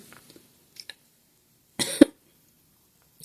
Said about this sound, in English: making me cough, and it's awful